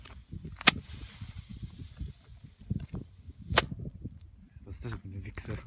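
Two sharp, loud cracks of Weco China Böller A firecrackers set in a circle pop a few seconds apart, with quiet voices and shuffling noises between them.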